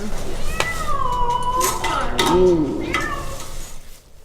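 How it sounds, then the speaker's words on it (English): A very unhappy cat caught in a live trap meows and yowls in drawn-out, rising and falling cries, up close and loud over steady outdoor background noise. "They will also release accidentally trapped skunks, a mink, and one very unhappy cat."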